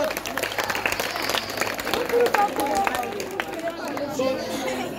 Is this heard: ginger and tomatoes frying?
no